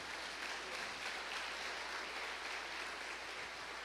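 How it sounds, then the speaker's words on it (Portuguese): Congregation at a church service clapping hands together, a dense steady wash of applause that holds evenly throughout, with no voices standing out above it. "Bate palmas para Jesus."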